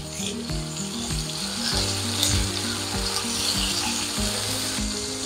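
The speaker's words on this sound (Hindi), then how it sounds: "इसको अच्छे से आपने फ्राई कर लेना" Chopped tomato frying in a pan for tawa chicken, a steady sizzle with clattering and scraping of a utensil against the pan throughout.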